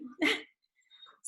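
A single sharp, high-pitched puppy bark close by, followed by a brief quieter yip and a short noisy burst.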